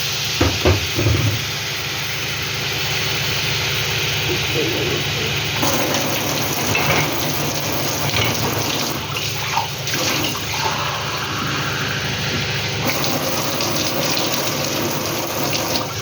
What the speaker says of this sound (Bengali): বন্ধুরা, এবার আমি জল দিয়ে দেবো।